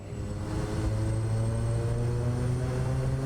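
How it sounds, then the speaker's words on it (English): A Kodiak 100 single-engine propeller plane at takeoff in Microsoft Flight Simulator 2024, a loud steady engine and propeller drone that builds slightly as throttle comes up, heard alone with no talk. "Let's just go for a quick takeoff and come back in for a landing."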